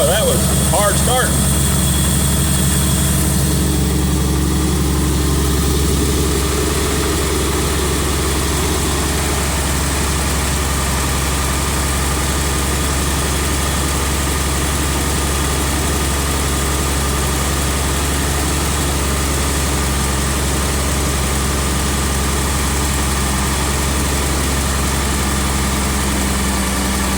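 Engine idling steadily after a hard start, a loud continuous low rumble with a constant vibrating drone that barely changes, slightly rougher in the first few seconds.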